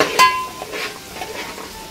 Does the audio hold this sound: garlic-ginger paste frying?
yes